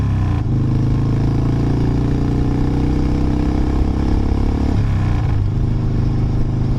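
A motorcycle engine droning loud and close while riding on an evening cruise, a steady low rumble with shifting pitch as it eases off and picks back up.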